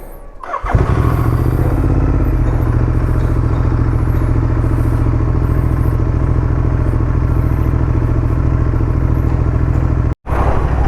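A motorcycle engine runs loud and steady close by as the rider sets off from home, a steady droning rumble with no talk, cutting out briefly near the end; the bike has an engine check light problem.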